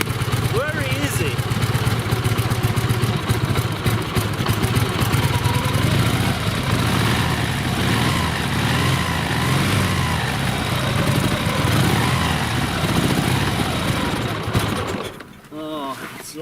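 A Dnepr sidecar motorcycle engine runs in winter, a steady, close, rough idle that holds throughout, with people talking over it, before it drops away suddenly near the end.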